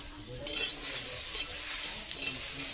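Green chilies frying in a pan after potatoes, a steady close sizzle with stirring scrapes running throughout, no voices.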